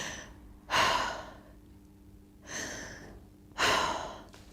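A person takes deep breaths while holding a standing twist stretch with hands on a wall. Three slow, breathy exhalations sound close and clear, with quiet gaps between them.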